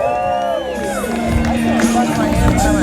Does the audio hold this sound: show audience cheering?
yes